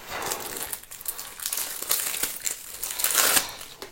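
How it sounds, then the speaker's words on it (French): Plastic wrap crinkles and tears as a pack of board game cards for Crystal Palace is unwrapped up close. The crackling stays dense and continuous throughout. "Les cartes du jeu, on va essayer d'ouvrir ça rapidement."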